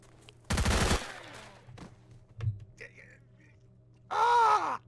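Gunfire from a weapon shooting a bandit in the S.T.A.L.K.E.R. shooter game: two loud bursts of rapid shots about three seconds apart, separated by quiet stretches with faint scattered sounds.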